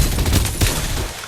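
Rapid shotgun gunfire in a video game, a dense continuous volley of loud blasts with one stronger shot partway through, no talking.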